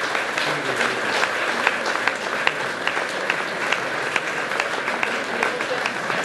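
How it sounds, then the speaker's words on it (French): Applause for port workers at a mayor's New Year address, a steady wash of clapping from a hall audience, with a few sharper individual claps standing out through the sustained crowd noise. "Ils méritent vos applaudissements"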